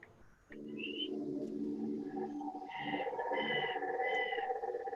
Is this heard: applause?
no